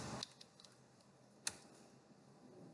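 Someone types a username on a computer keyboard, giving a few soft, scattered key clicks and one sharper tap over a quiet room background.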